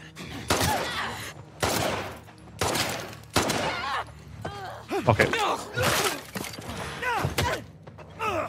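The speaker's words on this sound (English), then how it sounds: "We're using guns." Bursts of gunfire in the shooter game No Return, several sharp loud volleys spaced through the clip with ringing echoes and clattering impacts, occasional voice chatter mixed in.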